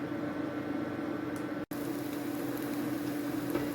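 Pumpkin pancakes fry in a hot frying pan, giving a steady, close sizzle with a faint low hum underneath and one momentary dropout; no one speaks.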